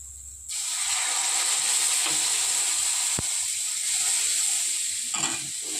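Spice tempering, oggarane, sizzling in hot oil for Udupi basale soppu saaru, a sudden loud hiss that flares up and then holds a bright, steady crackle for several seconds, with a brief sharp tap partway through.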